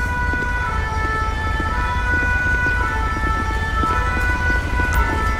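Fire engine siren in the police game GTA LSPDFR, a steady wailing tone running the whole time over a continuous low road rumble and traffic noise.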